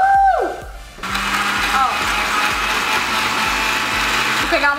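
Kitchen blender whirring steadily as it blends a thick chocolate Milka milkshake with added milk, a continuous motor drone with rhythmic ticking, following a brief high-pitched start and a pause.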